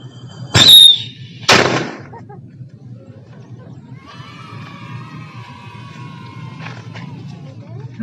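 Two sharp, loud bangs in quick succession close by as a firecracker explodes inside a coffee bottle, followed by a quieter stretch with faint background noise and distant voices.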